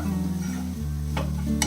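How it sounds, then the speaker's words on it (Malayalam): Cucumber and coconut thoran being stirred in a hot pan, a steady close sizzle under scraping strokes with a couple of sharper clinks near the end. "അപ്പോൾ ഇത് നല്ല രീതിയിൽ ഇളക്കി കൊടുക്കാം."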